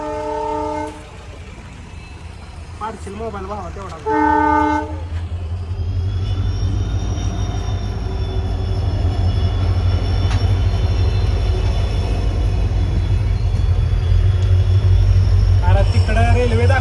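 A train rumbles in and grows steadily louder, with a long high whistle-like tone sustained; a few people talk briefly at the start.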